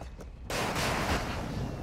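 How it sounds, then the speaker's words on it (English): A precision airstrike in Call of Duty: Modern Warfare II erupts suddenly into a loud, sustained roar of blasts and rumbling impacts that fills the moment after a brief quieter lead-in. "Precision airstrike. Get to cover."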